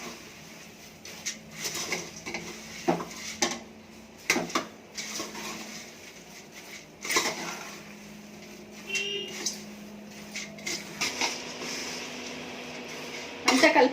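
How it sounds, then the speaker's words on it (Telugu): Puffed rice being stirred in a pan, a series of scattered scraping and clinking knocks from a utensil against the pan with quiet gaps between, some louder bursts near the end. "బురుగులు వేసి అంతా ఒకసారి తిప్పాలి."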